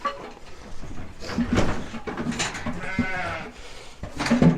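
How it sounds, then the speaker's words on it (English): Sheep and lambs bleat repeatedly in a sheep handling system with a head catch. Their calls come close and loud amid metallic clanks and rattles of the gates and chute. "once you get the lamb, sheep, whatever it is in there, you open that head catch"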